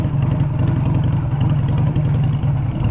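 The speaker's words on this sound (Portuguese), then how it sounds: "Como que a moto pula." A motorcycle engine rumbles steadily and loudly up close while the bike rides over rough road paving on the Estrada Real between Carrancas and Tiradentes. The pulsing drone continues without a break, and no voices are heard.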